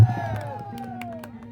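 A crowd at a Chhath Puja cultural program in Hari Nagar, Delhi, cheers and claps in a brief, loud burst, with voices shouting over it.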